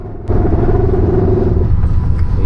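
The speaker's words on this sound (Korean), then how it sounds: "삐그덕 소리가 왜 이렇게 나는 거야?" Steady low rumble and rattling of a moving sleeper train carriage in Vietnam, with creaks and clatter layered over the continuous mechanical drone.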